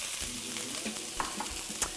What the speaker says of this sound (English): We're gonna go ahead and dump these guys in here and get a nice sizzle going.